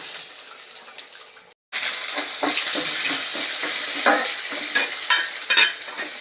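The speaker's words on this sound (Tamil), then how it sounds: "நல்லா வதக்கிக்கோங்க, சிம்மில் வச்சுக்கோங்க." Onions sautéing in a pan on a low flame for poha upma, a steady soft sizzle with stirring scrapes throughout, close and continuous, with a brief gap near the start and no talking.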